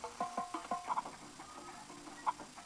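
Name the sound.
chickens clucking in a video game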